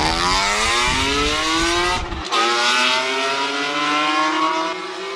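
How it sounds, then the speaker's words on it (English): A loud BMW E46 M3 engine revs hard and climbs through the gears on a hill-climb course, with a brief drop at a gear change before it pulls away again. "Loud and proud, E46 up the hill."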